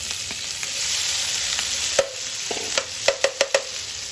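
Cauliflower fries in hot oil in a pan, a steady close sizzle broken by a run of sharp knocks of a spoon against the pan near the end, no talking.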